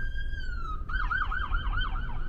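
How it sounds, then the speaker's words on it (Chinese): An ambulance siren wails past on a street, a steady tone giving way to a rapid rising-and-falling yelp that stays loud over low traffic rumble. "救护车"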